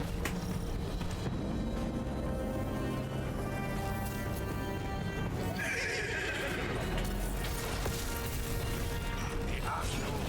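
A horse whinnies in Destiny 2 amid a busy game soundtrack of clattering hooves, mechanical clanks and steady background noise, with a brief bright burst midway.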